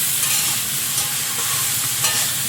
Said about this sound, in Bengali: চিংড়িটা হালকা ভেজে নিয়ে